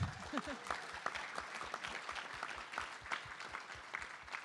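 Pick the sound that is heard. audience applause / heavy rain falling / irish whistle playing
audience applause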